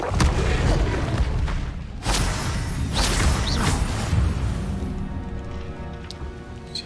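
Fire spell bursts in a wizarding video game played on hard difficulty, with loud rumbling whooshes and impacts in quick succession, fading into a quieter tail near the end.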